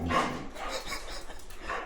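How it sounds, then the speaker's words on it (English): A dog lets out a goofy, whiny vocalisation lasting about two seconds at close range, with a voice partly mixed in. "That goofy dog noise."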